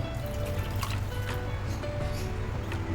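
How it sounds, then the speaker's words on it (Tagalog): One cup of water pours steadily into a cooking pot with a continuous liquid trickle and splashing, close by, with low background hum throughout. "lagyan natin ng 1 tasang tubig"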